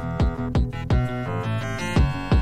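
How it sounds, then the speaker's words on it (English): Electronic game-style music track for a skeleton boss, punchy beats and chords driving toward an upward key modulation, loud and alone with no voices. "we're building up to a chord modulation that's gonna sound like this"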